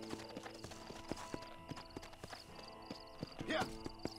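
Horse hooves clip-clop at a steady trot in the Red Dead Redemption western game, sharp repeated hits over a busy background of music and ambience, with a voice talking alongside.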